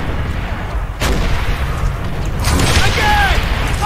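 Heavy booming explosions from a panzer strike in the war shooter Call of Duty: World at War, a big blast about a second in and another rolling burst later, loud over steady battle noise with voices talking.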